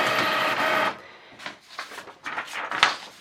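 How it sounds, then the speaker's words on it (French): An HP Envy inkjet printer prints a test page: a steady whirring feed is followed by clicks, short mechanical rattles and the clatter of the paper moving, heard up close. "je vais imprimer quelque chose sur l'ordinateur"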